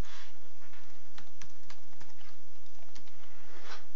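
Password keystrokes tapped out on a computer keyboard, a short run of separate clicks close up against a quiet background hum.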